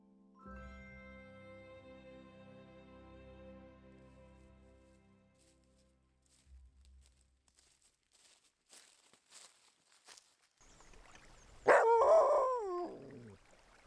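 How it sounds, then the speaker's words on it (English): A dog at a small red cabin in the woods gives a short burst of loud, close barks near the end of an otherwise quiet stretch, after a soft, sustained tonal passage. "You like to bark?"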